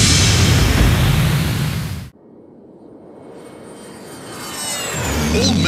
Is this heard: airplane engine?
yes